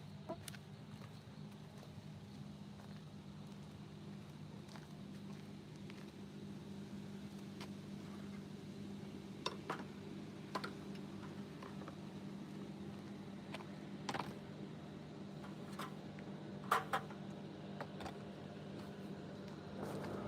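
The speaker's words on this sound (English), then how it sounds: "I hear a boat coming." A low, steady engine drone hums in the distance throughout, like a boat passing on a river, with faint scattered clicks and chirps around it.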